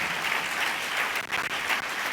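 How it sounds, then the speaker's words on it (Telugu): A church congregation claps in praise during a sermon, a dense, continuous wash of many hands at moderate loudness with a couple of brief dips, heard from within the hall. "నా మాట అర్థమైన వాళ్ళు చప్పట్లు కొట్టి ప్రభువుని మహింపరచండి."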